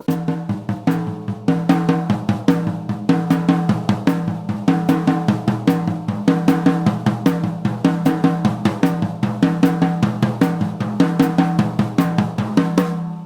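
A steady, square drum pattern looping on the toms, evenly spaced hits in a repeating rhythm, close and prominent.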